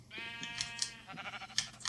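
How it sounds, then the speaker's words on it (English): A sheep bleats in Minecraft, a wavering nasal cry up close, followed by soft game sounds and light clicks. "Come on, sheep."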